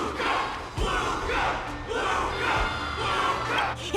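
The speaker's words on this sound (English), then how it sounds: "Everyone's cheering for you, Luca!" A game crowd in Honkai: Star Rail cheers for Luca in loud, surging waves of massed voices, with a couple of low thuds, filling the whole stretch with no clear single speaker.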